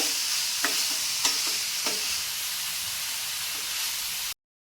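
Mixed vegetables with cabbage and capsicum stirred in a hot pan for veg momo filling, a steady sizzling hiss under a few light scraping strokes of the spoon, close and continuous.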